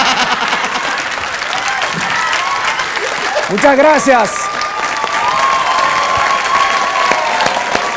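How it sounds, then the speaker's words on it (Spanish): Audience applause and some cheering for a comedian after a joke, loud and sustained, with someone speaking over it and a brief burst of laughter or whooping midway. "Un gran aplauso para Bachuco."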